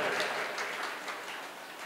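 Audience clapping at a foundation-stone ceremony in Vasundhara, Ghaziabad, a steady dense spread of applause holding fairly even for about two seconds at moderate distance.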